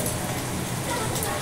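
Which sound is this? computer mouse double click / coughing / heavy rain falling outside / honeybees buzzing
heavy rain falling outside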